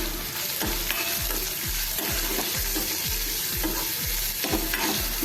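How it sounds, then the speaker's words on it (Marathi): Chopped onion sautés in a pan until light pink, with steady loud frying and sizzling and regular rhythmic stirring scrapes about twice a second, close up with no talk. "कांदा आपण थोडा गुलाबी रंगावरती परतून घेऊया"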